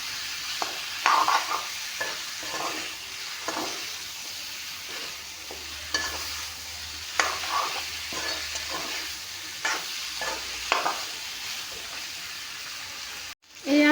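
Chicken meat with onion, salt and spice masala fries in a pan, a steady close sizzle broken by repeated scraping and stirring strokes, with brief speech at moments.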